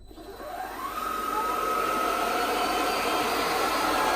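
An Electrolux Pure F9 cordless vacuum cleaner runs alone: a steady close whine that rises over the first second as the motor spins up, then holds at a constant, fairly loud level.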